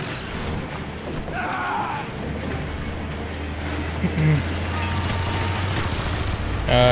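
Machine gun fire in the shooter Call of Duty: Black Ops, a sustained, rattling burst of automatic fire with booming impacts and battle noise, loud and steady throughout, with a player's voice briefly heard over it.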